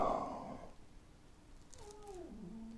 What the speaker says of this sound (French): oh, désolé, c'est le petit chat, il y a encore le petit chat derrière